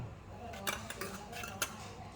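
A spoon scraping and clinking against a container while scooping an ingredient for a spicy shrimp dish, a few faint metallic taps spaced out over low background noise.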